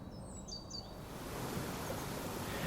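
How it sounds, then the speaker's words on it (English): Raging water pours over a waterfall in the Lake District; a few bird chirps come first, then a broad roaring rush swells up and holds steady, loud and continuous, with no talking. "As you approach the falls, the sound of raging water washes over you."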